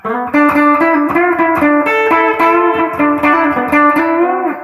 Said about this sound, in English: here is the amp set with the reverb on 4, no pedal, just a clean amp sound